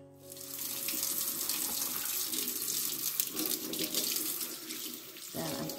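A kitchen or utility tap runs steadily while dyed wool is rinsed under warm water, a full, close splashing rush into a sink that shifts briefly near the end as the flow changes.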